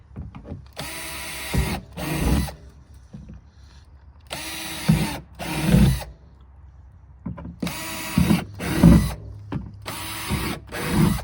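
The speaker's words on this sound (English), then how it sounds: "you flip them over and drill you some holes in the bottom" A power drill whirs in repeated short bursts, drilling holes in the bottom of containers for a raised bed garden, pairs of loud drilling runs separated by pauses with faint handling noises between.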